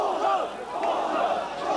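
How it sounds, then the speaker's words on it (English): Large crowd of protesters in Tiananmen Square shouting together in a sustained roar, many voices blending into a continuous mass of chanting and yelling facing a line of soldiers. "The air was filled with shouts"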